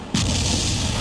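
A heavy blast from a drone strike in Najran, Saudi Arabia, lands as a sudden loud boom that gives way to a dense, sustained roar and rumble filling the whole second.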